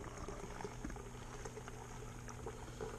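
Wort for a blood orange beer boiling in a home brew kettle, a faint steady bubbling rumble with a low hum, no voices.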